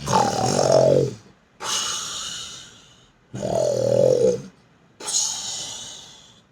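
Children imitate loud snoring like Kumbhakarna, four long, rasping snore sounds alternating between deep inhaled snorts and breathier exhales, each lasting over a second with short pauses between.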